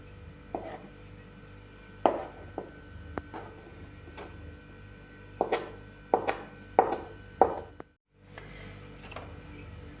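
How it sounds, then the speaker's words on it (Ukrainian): A knife chops boiled egg whites into thin strips on a cutting board, with sharp, irregular knocks in small bursts and a brief silent gap near the end. "І білки будемо нарізати соломкою."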